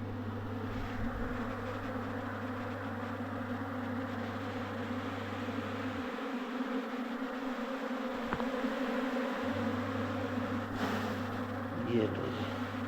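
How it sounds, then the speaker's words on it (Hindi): A steady, dense buzzing of a swarm of mountain honey bees fills the scene, continuous and close, with a low hum dropping out briefly in the middle. "तो देखिए मधुमक्खियों ने शोर करना शुरू कर दिया।"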